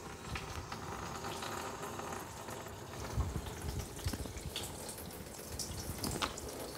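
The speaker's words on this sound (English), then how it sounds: "the water's running out now" Water drains and gurgles out of a Multipure water filter system after the supply is shut off, a steady, close trickling and bubbling with occasional louder splashes.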